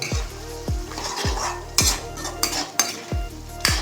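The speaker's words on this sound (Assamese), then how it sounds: "মই হাই ফ্লেমত ভাজি আছোঁ, সেইবাবে মই অকণমান পানীটো দি মিক্স কৰি লৈছোঁ" Paste frying over high flame with a little water added, sizzling steadily while a spoon scrapes and knocks against the pan in quick, close, regular strokes.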